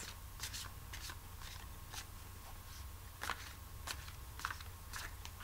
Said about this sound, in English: Here we go, shuffling the cards.